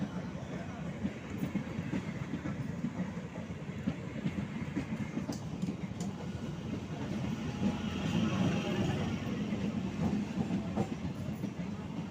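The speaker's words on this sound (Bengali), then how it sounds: "এক্ষুনি ট্রেন চলে আসবে" A train rumbles past at close range, steady clattering wheels and rolling rumble building slightly louder midway, with a few high metallic squeaks.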